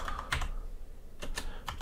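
Text typed on a computer keyboard, a few quick clusters of close, crisp key clicks separated by short pauses, with no voices.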